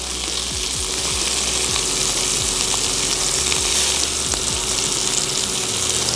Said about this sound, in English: we're gonna start turning these bad babies over now